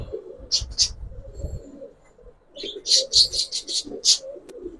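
Giribaz pigeons coo in soft, repeated bursts close by, mixed with brief chirpy calls and low rustling, with a pause in the middle before a run of several quick coos.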